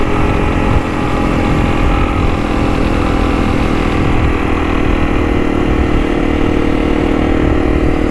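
A Honda CRF300 Rally motorcycle's engine drones loud and steady right at the mic during a wheelie, a sustained mid-pitched buzz with little variation and wind rumble underneath.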